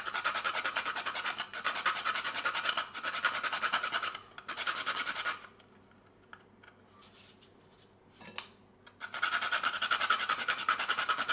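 Jamaican nutmeg is rasped on a grater for cornmeal pudding in a rhythmic run of close scraping strokes, then a few seconds of near quiet before the grating starts again.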